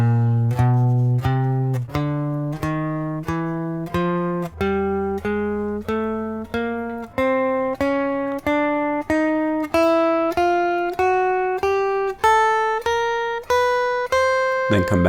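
A spider crawl warm-up on guitar: single picked notes step upward one after another at an even, unhurried pace. The guitar plays alone, with clear, close attacks throughout.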